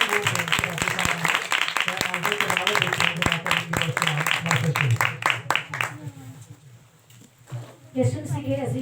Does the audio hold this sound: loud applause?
yes